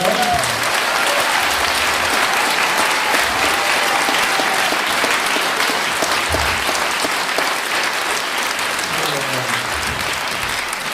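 Conference audience applauding the organizing team, continuous dense clapping throughout with a few faint voices rising beneath it.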